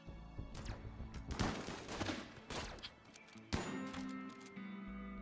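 Gunfire in the RimWorld video game comes as several thudding shots and cracks in irregular bursts, with a sharp louder shot partway through, at moderate volume.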